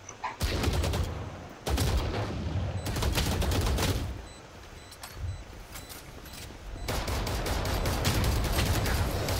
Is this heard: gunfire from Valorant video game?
yes